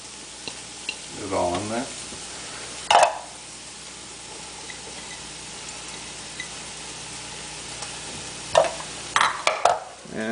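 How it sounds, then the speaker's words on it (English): Sweet peppers hit a hot pan for black bean chili, giving a steady low sizzle under brief speech, with a few louder scraping stirs and clatters near the start and end. "now that the pan's starting to heat up, go ahead and add my peppers"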